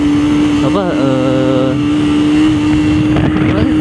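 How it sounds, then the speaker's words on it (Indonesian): Motorcycle exhaust idles with a steady hum, blipped briefly near the start and again near the end, recorded close with wind buffeting the microphone. "Ini deh suara knalpotnya"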